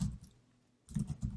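Typing on a computer keyboard: faint clusters of quick clicks, one short burst at the start and a longer run after a brief pause, with no speech.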